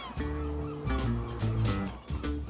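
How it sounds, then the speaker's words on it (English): Seagulls call on the Isle of Man coast, a few nearby honking, squawking cries repeating in short bursts, fairly clear and close. "Seagulls."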